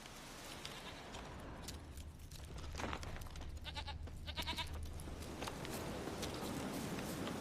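A goat in the video game The Witcher 3, bleating a few quavering calls in the middle over faint ambient noise and soft rustling, fairly quiet and somewhat distant.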